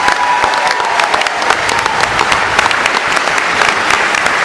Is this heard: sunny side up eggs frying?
no